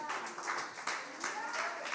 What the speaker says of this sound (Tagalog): Napakahina ng palakpak ninyo.